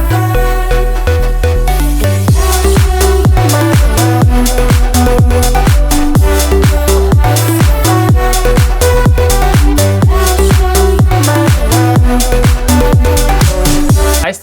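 A 90s house inspired track, pumping loud and steady with a punchy four-on-the-floor kick, thick bass line and bright layered synths throughout, uninterrupted by any voice.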